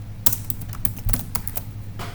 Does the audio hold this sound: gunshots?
no